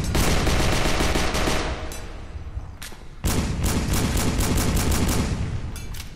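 Rapid bursts of pistol fire in the VR zombie game Horde Z, loud and continuous with a short pause midway, then another long stretch of repeated shots.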